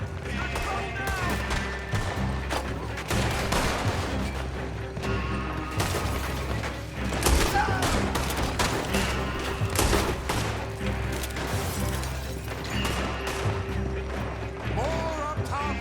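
Dense volleys of gunfire from the Wild West video game Red Dead Redemption 2, with shots overlapping almost continuously and some heavier crashing impacts, all under shouting voices and background music.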